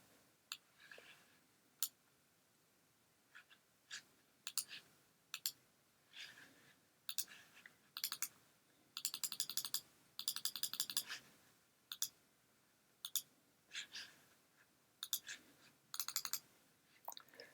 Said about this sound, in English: Click on T for text.